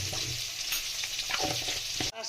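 Koi fish frying in hot oil in a pan, a dense, steady crackling sizzle heard up close with a few stirring scrapes, cutting off abruptly near the end.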